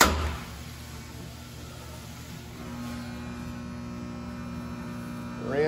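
A Dynapower 1500 amp, 9 volt three-phase industrial rectifier powers up and runs with a steady low electrical hum and buzz. A brief click sounds at the start and a rising whine near the end, with no talk.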